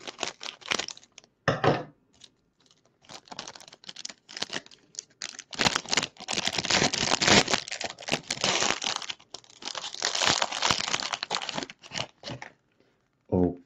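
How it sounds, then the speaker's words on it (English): Scissors snipping and tearing open the crinkly foil wrapper of a hockey card pack, a series of close, irregular crackling and rustling bursts with short pauses between. "I'm gonna use my scissors on this one."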